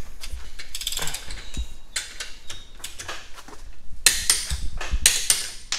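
Torque wrench clicking as it tightens the headlamp mounting bolts on a 2009 Toyota Venza: a run of sharp ratcheting clicks and mechanical ticks, close and fairly loud, with a denser, louder burst near the end and no talk.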